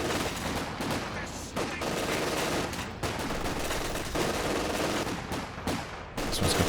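LMG fire from a Grenadier squad in Company of Heroes 2 chatters steadily through a busy battle mix, with overlapping bursts and distant explosions sustained throughout.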